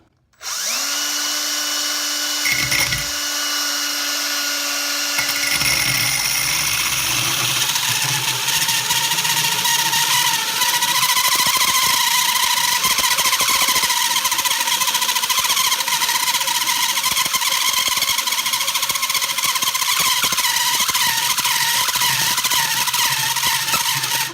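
A drill with a cheap diamond hole bit starts up and runs continuously, its loud whine roughening into a grinding, scraping cut through granite for the length of the clip.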